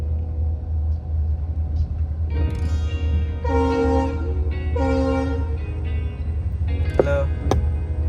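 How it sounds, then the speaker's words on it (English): A long, slow train rumbles past at close range over a steady low roar, its horn blaring in two sustained tonal blasts midway through. "Hello, train greeting me."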